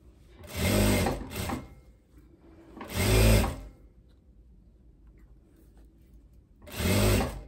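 A sewing machine stitches a striped linen dress bodice to its skirt in three close, loud bursts of rapid whirring, separated by quiet pauses, with no talking.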